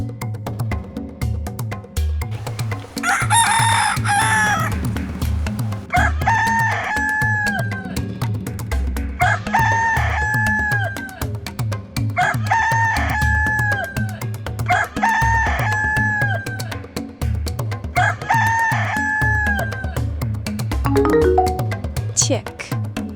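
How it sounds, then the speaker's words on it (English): Repeated rooster crowing, a series of loud cock-a-doodle-doo calls evenly spaced over about twenty seconds, with clucking and other farmyard fowl around it and a steady rhythmic backing beneath. "rooster,"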